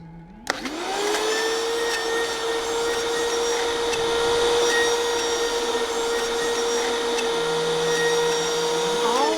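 Nuts being crushed in a high-speed machine for raw vegan chocolate eyeballs, a loud whirring motor that starts abruptly and holds a steady pitch, dropping briefly near the end before rising again.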